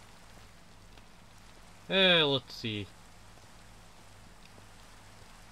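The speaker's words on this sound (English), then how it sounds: "And right when I say rains, it rains, huh?" Rain falls steadily in the video game Minecraft as a soft, even hiss from start to finish, with a brief spoken phrase in the middle.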